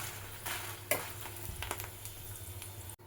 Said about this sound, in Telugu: ఇప్పుడు నువ్వుపప్పు వేయించుకున్నాం. నూనె కొంచెం ఎక్కువ ఉండాలి